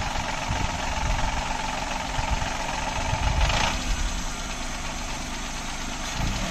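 Car engine idling smoothly after a fuel additive dose, a steady, even mid-pitched hum with constant loudness and a brief rise partway through, close and alone with no talking.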